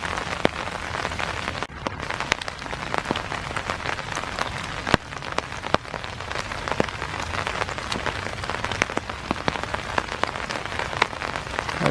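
Steady rain falls on a dark, foggy morning in Iroquois Park, a dense continuous patter with scattered sharper drops hitting close surfaces, no voices.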